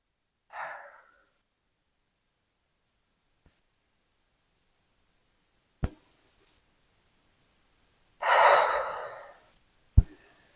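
A sharp breath exhaled during a mat Pilates arms and abs workout, one strong airy rush standing alone in near silence, with a brief softer breath earlier and two sharp thumps.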